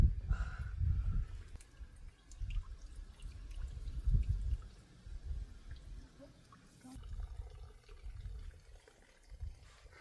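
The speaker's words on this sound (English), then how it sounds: "It's extra fun when the water's running" Water runs and drips from a broken farm water trough, irregular splashes and trickles close by, moderately quiet, with brief low thumps between them.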